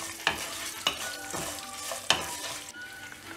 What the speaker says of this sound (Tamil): புளி நல்லா ஆட் பண்ணிட்ட உடனே நல்லா ஃப்ரை பண்ணிவிடணும்